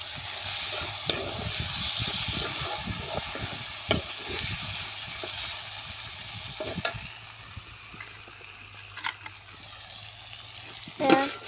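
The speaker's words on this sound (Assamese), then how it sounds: "মই ভাজি বনাই আছোঁ" Fish frying in a pan, a steady sizzling hiss with occasional stirring clatters and a louder crackle near the end, under a faint low hum from the surroundings.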